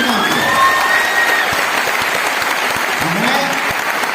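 An audience at a motivational gathering in Patna claps for teachers in dense, sustained applause filling the room, with a voice speaking over the clapping.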